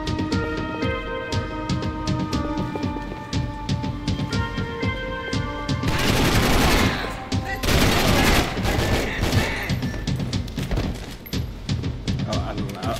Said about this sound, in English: I like how he kept shooting after he died.